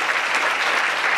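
A stand-up comedy crowd in Saint-Gervais applauds, dense, even clapping filling the room without pause and no one speaking over it.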